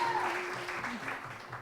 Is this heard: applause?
yes